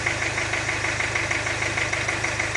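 A car engine idles steadily during a 6T30/6T40 automatic transmission fluid level check, its low, even rumble with a faint knocking pulse running continuously and loud at close range.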